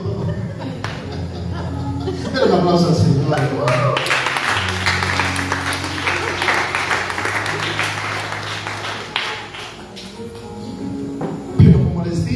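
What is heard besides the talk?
audience applause in a church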